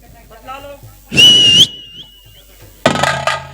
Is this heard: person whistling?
yes